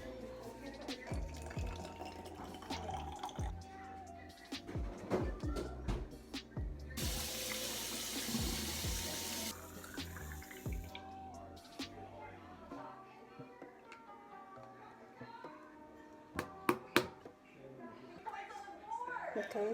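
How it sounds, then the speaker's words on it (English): Tap water runs into plastic tie-dye squeeze bottles at a sink, a hissing rush that swells for a few seconds among handling clatter, with talk heard throughout. "So now I'm gonna put water in these."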